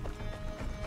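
Horse hooves clip-clop in the video game Far Cry 6, a brief, faint and steady patter of steps under low background game sound.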